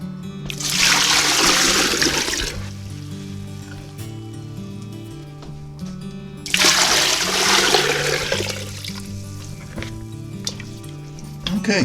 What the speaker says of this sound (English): we're just going to use enough water to cover it.